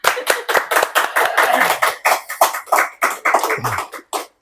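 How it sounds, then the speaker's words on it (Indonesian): Loud, close, rhythmic hand clapping from an audience, in quick bursts with brief gaps between them. There are no voices over it. "nah inilah sebuah jawaban, tepuk tangan"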